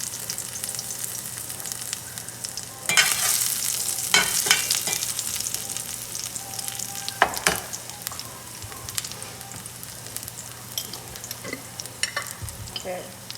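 Crushed garlic hits hot oil with a loud burst of sizzling, then settles into a steady fry broken by sharp stirring clanks and scrapes of the spoon.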